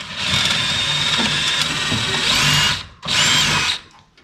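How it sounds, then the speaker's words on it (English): A power drill runs a tap through bolt threads while working on an FJ40, whirring loudly and steadily for about three seconds, stopping briefly, then spinning again for another short burst, with no talking. "hopefully we can just run a tap through it without ruining the threads"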